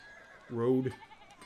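A single short sheep bleat sounds in the video game Pentiment, a brief quavering call lasting under half a second against a quiet background.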